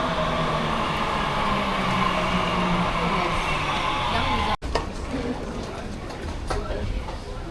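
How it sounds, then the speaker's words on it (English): Busy street just outside a Budapest metro station where people are buying tickets in winter: a continuous loud rumble of traffic and crowd noise, dropping briefly, then a thinner clatter of footsteps and scattered voices. "here in Budapest, just outside the metro, everybody's buying their tickets"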